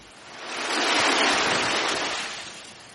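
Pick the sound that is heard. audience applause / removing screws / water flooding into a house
water flooding into a house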